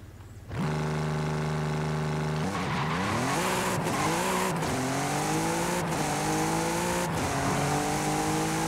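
ABT Audi RS4-R with S-Tronic gearbox in the racing game Forza Horizon 5: an engine revs hard from idle, then climbs steadily through several quick gear shifts, loud and close throughout.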